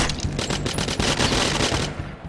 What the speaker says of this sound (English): I'm trying to shoot over that box there, but apparently the game says no